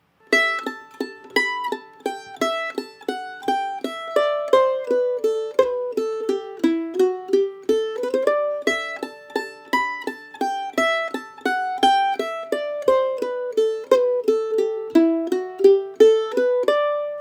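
Mandolin picking the A section of an Irish jig alone, a steady lilting stream of bright plucked notes at an even, moderate volume with no voices.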